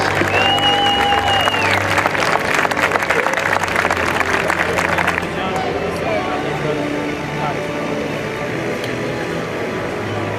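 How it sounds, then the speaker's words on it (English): A large crowd at a Georgia Military College military appreciation day game applauds armed forces veterans, with dense sustained clapping and cheering that is loud at first, then eases to a steadier lower level. "Please give them a warm supportive round of applause for these veterans of our armed forces"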